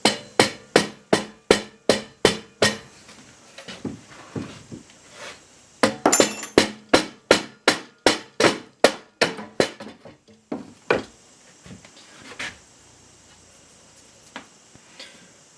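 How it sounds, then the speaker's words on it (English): A rubber mallet striking the crankcase of a 5 HP Briggs engine, a long run of quick, evenly spaced, loud dull knocks close by, a brief pause, then more blows that grow sparser toward the end. "You're going to be hitting on the back of this with a rubber mallet."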